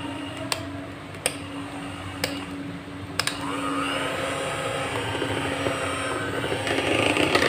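An electric blender mixing almond sponge cake batter: a few sharp clicks over a steady motor hum, then the whirring grows fuller and louder as the blending continues.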